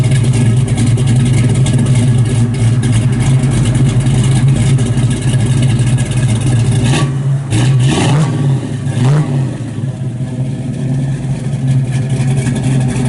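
A 1969 Chevrolet Camaro RS/SS with a 427 ZZ crate motor and four-speed rumbles loud and close, revving and idling with a deep steady throb, then dipping and rising through a couple of throttle blips.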